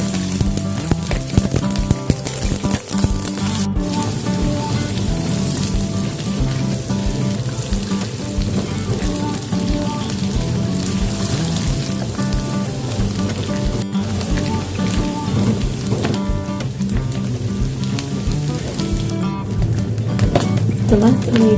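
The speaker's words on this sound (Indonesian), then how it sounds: "Setelah minyak panas, masukkan teri yang sudah dicuci tadi." Small anchovies frying in hot oil in a wok for sambal teri Medan make a steady, dense sizzle and crackle that continues throughout, with music playing underneath.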